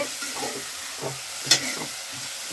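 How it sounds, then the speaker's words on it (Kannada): Onion and tomato fry in a pan for a brinjal curry, giving a steady close-up sizzle broken by soft scraping stirs and one sharp utensil clink, with no talking. "ನೋಡಿ ಹೀಗೆ ಮಿಕ್ಸ್ ಮಾಡ್ಕೊಳ್ತಾ ಇರಿ ನೋಡಿ ಇವಾಗ ಈಗಾಗಿದೆ ಈರುಳ್ಳಿ ಟೊಮೆಟೊನು ಸಹ ಮೆತ್ತಗಾಗಿದೆ"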